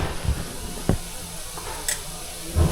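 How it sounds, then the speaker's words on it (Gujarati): Leftover roti pieces are tempered in a pan, giving a quiet sizzle with a few sharp ticks and clinks of stirring scattered through. "જો મેડમ બટકા વઘારે છે"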